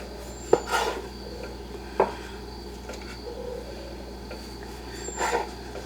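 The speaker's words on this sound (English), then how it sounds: "I'm cutting them about 2 inches. I think I need a sharper knife." A knife cuts through rolled pumpkin spice cinnamon roll dough on a board, giving a few sparse, dull knocks and soft scrapes spaced a second or more apart, separated by quiet stretches.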